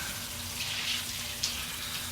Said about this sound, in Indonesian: Tak lama shower airnya menyala.